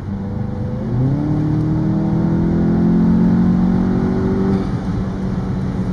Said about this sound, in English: see what the integrated engineering intake does sound like once you get it on the car